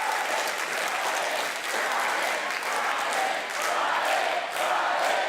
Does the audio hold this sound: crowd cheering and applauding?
yes